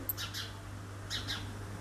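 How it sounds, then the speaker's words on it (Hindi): Small birds chirp outdoors in Haridwar on a morning, two quick clusters of bright tweets, fairly close but soft, over a low steady electrical hum. "पहले तो आप चिड़िया की आवाज़ सुन लीजिए कितनी प्यारी प्यारी सी आवाज़ है"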